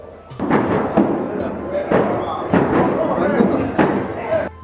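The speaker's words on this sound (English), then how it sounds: "Lots and lots of fireworks." Fireworks at a Chinese wedding in China crackle and thump in repeated loud bursts, each blast followed by dense crackling, close and continuous across several seconds.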